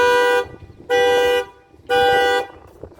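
A 2015 Ford Focus diesel's alarm, set off by opening the door, blares the horn in three long, evenly spaced blasts, each about half a second, with short gaps of quieter background between them.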